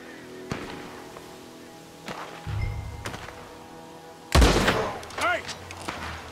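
Gunshots ring out during a duel in Red Dead Redemption 2, a few sharp cracks spread across the moment, the loudest and heaviest arriving late with a ringing tail, while a voice speaks between them.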